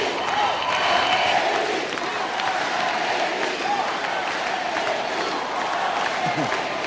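A crowd at a gathering cheers and applauds in a steady, dense wash of clapping and shouting that holds at an even level throughout, with no single voice standing out.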